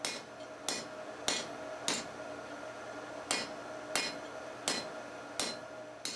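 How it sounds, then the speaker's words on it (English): A blacksmith hammers hot steel for tong jaws on an induction-heated setup, giving sharp ringing blows at a steady, slightly uneven pace of about nine strikes, close and clear with no talking. "As you can see, I'm running out of hammering while I still have a lot of heat."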